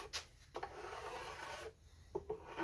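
A metal file is drawn gently along the side of a fret on a bass guitar fingerboard, giving faint, close, dry rasping strokes separated by short quiet gaps.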